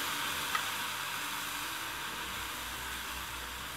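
A tortilla sizzles in a pan in cheese drippings, giving a steady, even hiss with no break and no one talking.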